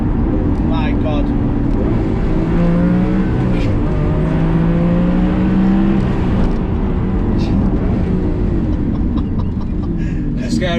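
A twin-turbo Lamborghini Aventador accelerates hard, its engine roaring loud and close with rising and falling gear-change sweeps and intake noise, while people talk over it throughout.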